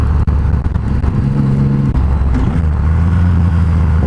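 A Triumph Rocket 3 motorcycle engine accelerates on a test ride, giving a loud, close, continuous deep rumble that holds strong for several seconds.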